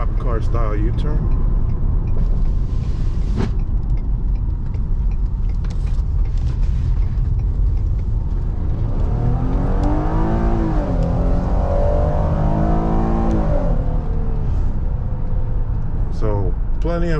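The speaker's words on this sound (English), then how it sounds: "And then we're gonna do a cop car style U-turn." A 2015 Ford Explorer Police Interceptor Utility rolls through a U-turn, then its engine rises through a strong pull and shifts in the middle, heard from the cabin over constant loud road and wind noise.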